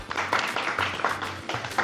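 An audience claps for a contestant in a large pizza eating challenge, a short burst of quick, scattered handclaps close by, with a low hum running underneath.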